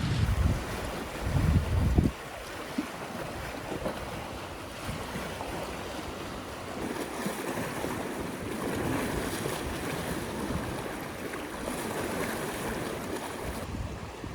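Choppy sea waves wash and churn against a rocky Cornwall shore, with a gusty rush of wind buffeting the microphone; a heavier rumble opens the clip, then a steady surging wash continues alone.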